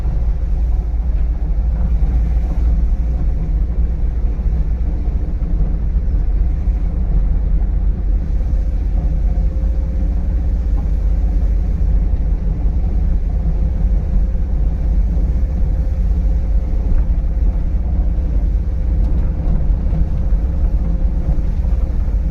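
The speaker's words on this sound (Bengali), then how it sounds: "বড় গাড়ি চালাই দিয়েছি" A big vehicle's engine rumbles steadily and heavily while driving, a constant low drone with road noise and no pauses throughout.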